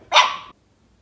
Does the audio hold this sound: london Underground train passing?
no